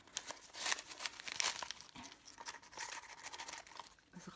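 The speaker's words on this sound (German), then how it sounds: "Es raschelt noch." Paper and packing from an advent calendar door, filled with homemade toilet-roll tubes wrapped in patterned paper, crinkling and rustling up close in uneven bursts, fairly quiet, with no talk.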